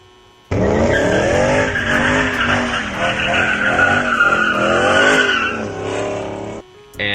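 A car drifts around a track corner on a track day, its tires squealing loudly and steadily for several seconds over the wavering engine drone, then cutting off abruptly.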